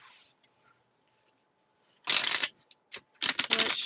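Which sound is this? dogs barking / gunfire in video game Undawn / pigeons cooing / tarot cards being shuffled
tarot cards being shuffled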